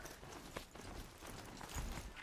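Hoofsteps of a mechanical machine horse in the video game Horizon Zero Dawn, quiet rhythmic clip-clop thuds at a walking pace, faint and somewhat muffled, heard alone.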